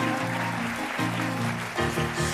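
An audience applauds at a Josephine Baker stage musical, with a broad wash of clapping running throughout over sustained tones from the show.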